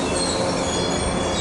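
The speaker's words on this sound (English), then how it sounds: "so on the southbound local service train from San Francisco Fort King to San Jose of the day" A Caltrain commuter train passing at Santa Clara on a southbound local run, a loud, close, continuous rumble and roar of rolling wheels with a faint squeal.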